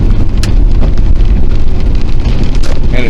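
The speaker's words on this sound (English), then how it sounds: "And it's rainy today, which I love." Steady rain drums on a car roof and windshield while driving, a dense, loud, continuous patter close around the listener with low road rumble beneath.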